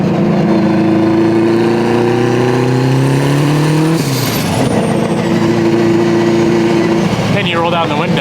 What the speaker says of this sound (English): if you want to hear a good old exhaust note, and obviously more gear noise